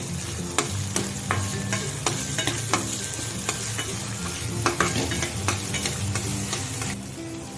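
Chopped onion fries in a hot pan for shev bhaji, a steady sizzle broken by repeated sharp scrapes and clicks of a stirring spoon against the metal, with no one talking.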